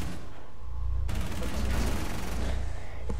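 Gunfire in Rainbow Six Siege rattles off as a rapid, dense volley of close, punchy shots. The shots jump louder partway through and continue almost without a break for a few seconds.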